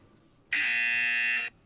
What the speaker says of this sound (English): There we go, the classic buzz.